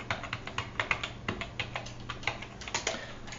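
A password is typed on a computer keyboard: a quick, uneven run of light key clicks, close and fairly quiet, with no voices.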